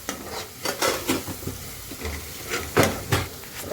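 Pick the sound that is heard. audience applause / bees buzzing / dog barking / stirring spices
stirring spices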